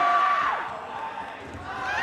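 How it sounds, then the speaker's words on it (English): Crowd at a college dodgeball Final Four match between Ohio State and Cincinnati cheering and shouting in a large indoor venue, a sustained roar that eases after the first half-second, with a faint commentator's voice underneath. "listen to this crowd"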